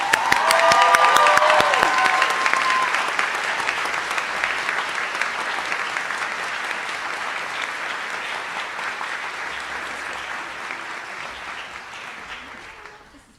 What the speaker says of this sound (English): I would love to give them a huge round of applause